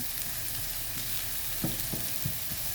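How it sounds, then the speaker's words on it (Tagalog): Vegetables sauté in a hot pan for a quick home lunch, giving a steady close sizzle with a few soft stirring scrapes and knocks toward the end, with no talking. "gisa-gisa lang po muna yung gulay"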